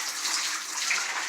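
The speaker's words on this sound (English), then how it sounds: "dumping the rinse water out" Rinse water poured out of a hand-washing tub after laundry is agitated, a steady broad rushing splash of water running continuously and fairly faint, with no talking.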